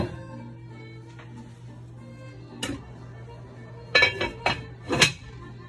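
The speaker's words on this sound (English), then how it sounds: "So I'm gonna actually put the lid on this and let this simmer down." A lid set onto a pot of simmering chicken soup for chicken and dumplings: several sharp metallic clanks and rattles near the end, close and fairly loud, after a quiet steady hum.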